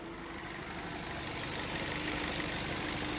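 A Ford Focus with a 2-liter engine idles under the hood, giving a steady, even hum with a constant low drone and no revving, heard alone at moderate level.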